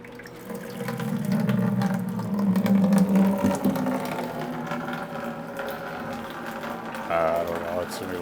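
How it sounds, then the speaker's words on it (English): Water rushes out of an opened drain on a UV water disinfection system as pressure is bled off, a steady close splashing flow that swells and then eases near the end. "We got to bleed pressure off by opening here and draining the water out."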